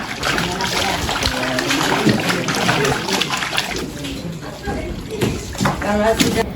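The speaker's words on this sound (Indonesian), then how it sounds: "singkong dibersihkan menggunakan air mengalir agar kotoran yang menempel hilang" Scraped cassava is rinsed under running water with steady splashing and spattering, close and fairly loud, while a voice speaks over it throughout.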